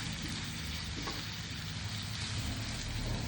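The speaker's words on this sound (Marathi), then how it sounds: "तूप गरम झाले, कांदा टाकून घेऊ" Onion frying in hot ghee, giving a steady, dense sizzle close by with a faint stir, continuous and fairly loud with no talk.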